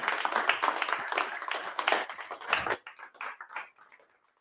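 An audience at a product meetup in Hamburg claps for a speaker taking the stage, a brisk ragged round of hand claps that tapers off into a few last scattered claps.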